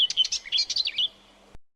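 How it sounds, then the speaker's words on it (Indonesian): A bird chirps in a quick run of bright, high tweets, close and clear, then stops abruptly into silence. "Itu suara burung"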